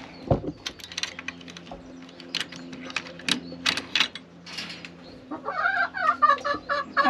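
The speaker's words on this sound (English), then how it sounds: "Let's see if that chicken is still laying an egg." Chickens clucking inside a hen house, a busy mix of short clucks and squawks with knocking and rustling, rising into louder rapid calls near the end.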